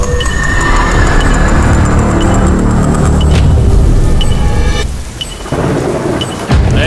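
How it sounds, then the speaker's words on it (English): Heavy outdoor rain pours steadily during an outdoor challenge, with low rolling thunder rumbling beneath the loud, constant downpour; the roar briefly dips near the end before returning, and no voices are heard. "The rain makes this so much more dramatic."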